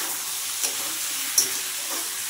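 Taro and potato pieces frying in a pan with green chillies while being stirred, giving a steady close sizzle with a couple of faint scrape clicks.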